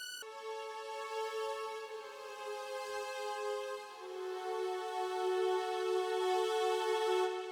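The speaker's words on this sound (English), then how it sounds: "We have our high violin legatos." High violins play sustained legato lines in an epic trailer-style orchestral arrangement, one long bright tone sliding smoothly to another about halfway through, steady and full with no percussion or voices.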